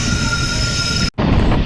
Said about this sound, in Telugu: ట్రైన్ కర్నూలు సిటీ నుంచి డిపార్చర్ అవుతుంది